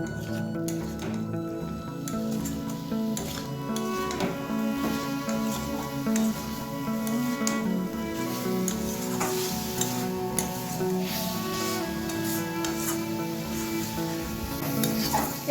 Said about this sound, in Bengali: সবটাকে একসাথে ভালো করে আমি কষিয়ে নিচ্ছি।